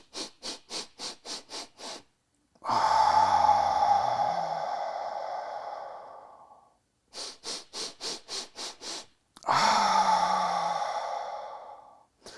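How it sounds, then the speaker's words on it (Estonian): A person breathes in through the nose in a series of short, rhythmic sniffs, then lets out a long, forceful exhale. The cycle repeats twice, close up and with no talk. "nina kaudu astmeline sisse hingamine käib alati kasutades diafragmat ja tekib selline hingamine"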